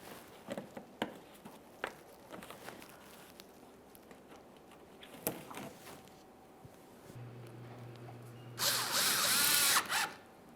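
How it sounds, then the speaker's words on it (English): A power driver whirs briefly near the end while installing a mounting screw in a Mazda 3 fog light panel, preceded by scattered clicks and handling taps of the trim. "we'll install that mounting screw as well"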